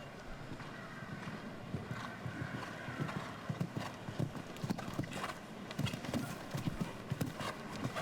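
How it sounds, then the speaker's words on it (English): A big-strided show jumper's hoofbeats during a jump-off round at a grand prix, heard as irregular muffled thuds over steady arena noise, with a commentator talking throughout. "Big strided horse"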